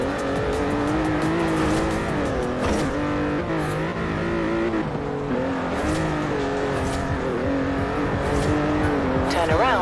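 E-brake handbrake turn in the Forza Horizon 4 racing game, with a sustained engine drone and wavering tire squeal across the clip, mixed under speech.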